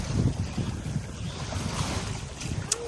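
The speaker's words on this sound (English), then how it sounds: "But this is us, very comfortable sailing." A sailboat under way makes low, rumbling wind buffeting and rushing water along the hull, steady throughout, with a faint high chime-like tone near the end and no talk.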